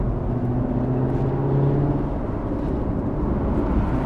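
Corvette C7 V8 engine running as a steady, loud low rumble that holds an even level throughout with no distinct rev peaks, heard close with no voices.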